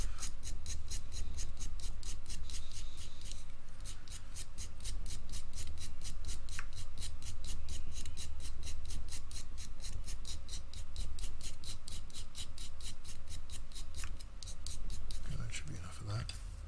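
Brown paint pigment is ground for a wash, making a continuous, rhythmic gritty scraping of quick, even strokes close up, steady for the whole stretch.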